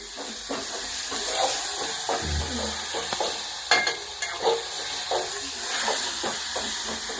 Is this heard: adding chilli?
yes